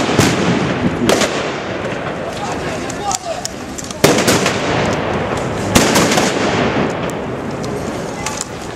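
Sharp cracks of gunfire burst out irregularly at a battle reenactment of Ukrainian Sich Riflemen against Poles, several loud shots spread across a noisy outdoor scene with a constant rumbling background.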